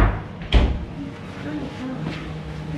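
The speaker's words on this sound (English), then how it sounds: "There's a door. Push bar to open." A door opened with a push bar, heard as one sharp thud and clunk near the start against a low indoor hum and faint background murmur.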